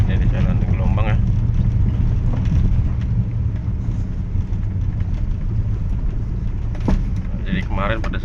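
Honda Accord Cielo driving over a bumpy road, a steady low engine and road rumble from inside the cabin with occasional rattles and knocks, while someone talks over it.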